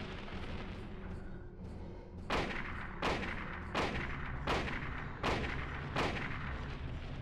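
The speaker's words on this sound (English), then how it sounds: "I think I'll take out my hunting rifle." Hunting rifle shots in the PS1 horror game Silent Hill's final battle: six loud, evenly spaced cracks, each with a short echoing tail, over a steady rumbling background.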